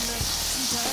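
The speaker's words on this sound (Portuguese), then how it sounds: "Água com essa manteiga fritando já vai encorpar o nosso molho." Butter fries with a splash of water in a pan, giving a steady, dense hiss that runs through the whole moment while a cook making flambéed shrimp sauce keeps talking.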